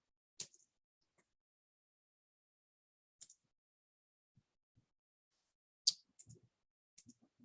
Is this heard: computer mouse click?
yes